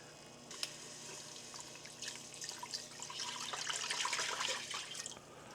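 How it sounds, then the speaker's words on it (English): Three cups of warm milk pour steadily into a butter and flour roux for mac and cheese, a soft liquid splash that builds to a fuller, gurgling flow before tapering off. "Now we're gonna add the 3 cups of the warm milk."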